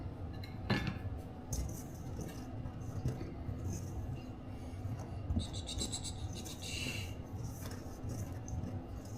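Dessert ingredients with a tablespoon of cinnamon stirred together in a bowl: soft, continuous scraping and rubbing of a utensil against the bowl, with occasional light clinks, fairly quiet and close.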